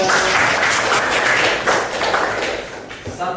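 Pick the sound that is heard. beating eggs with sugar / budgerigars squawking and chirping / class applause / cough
class applause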